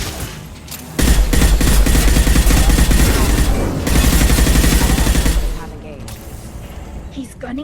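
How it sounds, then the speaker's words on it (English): Heavy automatic gunfire from Mass Effect 2 erupts suddenly and hammers on loud and continuous for several seconds, then cuts off into quieter background, with speech around the shooting. "He's gunning down his own crew to keep control?"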